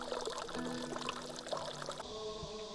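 Spring water trickles and pours steadily into a mineral spring basin in the courtyard of Pyochungsa temple in Miryang, heard up close and alone before the flow thins near the end.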